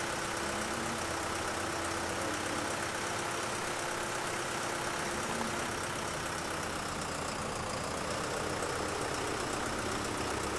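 A tractor engine in Landwirtschafts-Simulator 15 runs steadily as the machine drives, with a constant mid-pitched drone and a slight pitch shift near the end, fairly quiet and without talk.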